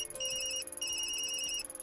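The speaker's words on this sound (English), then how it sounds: "Sorry, Yumi, that's my phone" A mobile phone rings in a video game set in Tokyo, a repeating electronic tone in short bursts that plays clearly on its own over a low steady hum.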